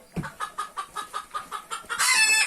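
A rooster of the Cin breed in Kızıklı village clucks in a steady run of about ten short, evenly spaced calls, ending in a louder, longer squawk, fairly close and alone.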